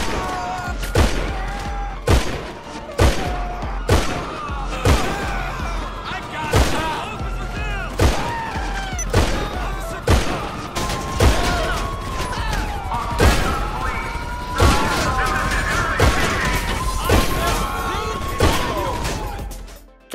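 A hard-hitting, slow-firing weapon in GTA Online booms out a steady series of heavy single shots about once a second, loud and close, while someone narrates over them.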